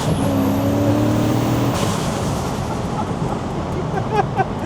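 A car with a Rover V8 engine and a cheap turbo setup drives along, loud and close, with a sustained roar. A whistling rising tone fades out partway through, leaving a rushing engine and road noise.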